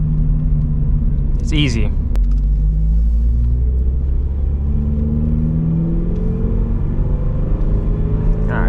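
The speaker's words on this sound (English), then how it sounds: "So yeah, now we're going. We're in second gear." Subaru BRZ with a manual gearbox pulls away in second gear, a loud steady low engine rumble that drops in pitch after a shift, then slowly climbs again as the car accelerates, with a brief voice over it early on.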